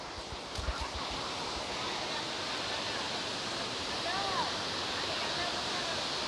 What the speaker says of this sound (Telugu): క్రేజస్ వాటర్ఫాల్ ఇది.